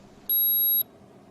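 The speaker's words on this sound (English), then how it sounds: "On the base unit, the probe icon will stop flashing and the unit will beep." A PosiTector base unit emits a single short, clean electronic beep of about half a second, clear and close over a quiet background.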